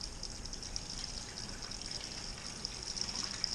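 Liquid runs steadily into a home-brew fermenter during a 10-gallon batch of vanilla coconut brown ale, a soft continuous pouring and trickling wash with no talk, fairly quiet and even throughout.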